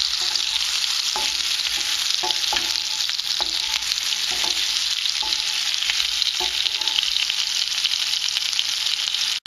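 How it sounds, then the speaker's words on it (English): Potatoes frying in a pan, with a steady loud sizzle running throughout and repeated scrapes of stirring at a regular pace, no voices. "the potatoes are in, and stir until golden brown"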